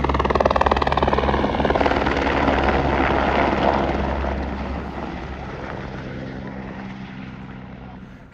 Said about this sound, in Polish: znowu po kogoś helikopter przyleciał